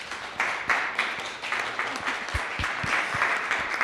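Sustained audience applause at the close of an evening panel event, a dense wash of many hands clapping at steady loudness, heard from within the hall.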